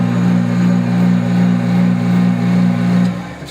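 Motorized trolley cable target retrieval system at a shooting range running steadily, a continuous loud mid-pitched motor drone with a gentle rhythmic swell, easing off near the end.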